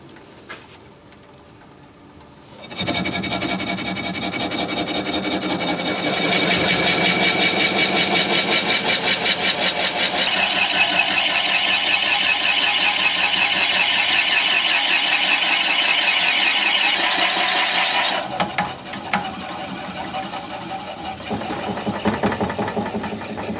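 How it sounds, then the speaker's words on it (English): Drilling into a wooden vase spinning on a wood lathe, a steady loud whirring grind with a high squeal that starts after a quiet moment, holds for about fifteen seconds, then drops back to the lathe's lower hum. "Okay, back to drilling."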